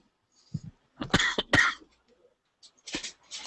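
A person coughs several times in quick bursts, close and fairly loud, with brief pauses and a couple of softer coughs at the end.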